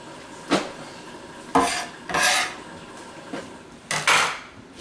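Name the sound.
bench scraper cleaning a cutting board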